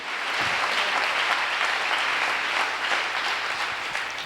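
A church congregation breaks into sustained applause, a dense, steady wash of many hands clapping at once, loud and continuous throughout without pauses.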